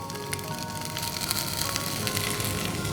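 Cleaned broccoli florets sautéing in a pan for a Jain broccoli and almond soup make a continuous close sizzle with crackly pops scattered through it, steady and fairly quiet throughout.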